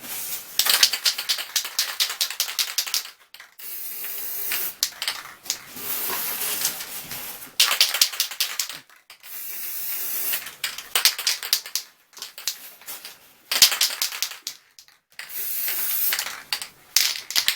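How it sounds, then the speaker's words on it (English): Bursts of spray paint hissing from an aerosol can as it undercoats washers used as bases for 1/72 scale plastic figures, repeated in short pulses separated by brief pauses, close and fairly loud. "When you finish spraying, turn the tin upside down"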